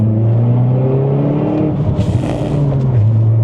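Stage 3 tuned Audi S1 hatchback under way, a loud close engine note that rises through the revs, dips briefly as if shifting gear, then climbs again, heard alone without talk.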